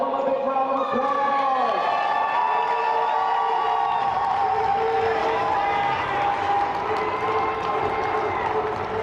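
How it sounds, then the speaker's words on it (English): Audience at a collegiate powerlifting national championship cheers and shouts for the top five women's raw 82.5 kg lifters, a steady, loud crowd roar with whoops sustained throughout, voices mixed in. "Give them a big round of applause."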